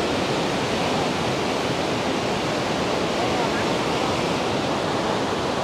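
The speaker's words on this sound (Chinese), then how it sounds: "这边是波涛汹涌，有落差，像瀑布一样的" Yangtze River rapids crashing over a drop at Tiger Leaping Gorge near Shangri-La, a dense, constant roar of turbulent whitewater with no pauses.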